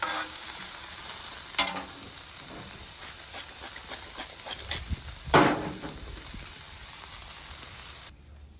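A cheese omelet fries in butter on a hot Halo griddle, giving a steady hiss and sizzle with a couple of louder scraping or stirring bursts, then stopping abruptly.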